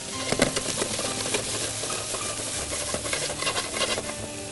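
Chicken wings and liver fry steadily in a pan, a continuous bed of crackling sizzle with occasional sharper pops and scraping stirs, close and moderately loud, with no talking.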